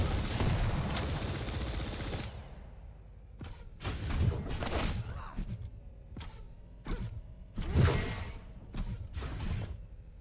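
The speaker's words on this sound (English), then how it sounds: "He's only got the nail gun." Rapid bursts of nail gun fire in the arena shooter Quake Champions, sharp clustered shots in several short volleys separated by brief pauses, heard clearly without voices.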